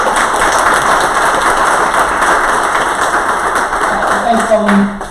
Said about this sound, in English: have a little round of applause for the panel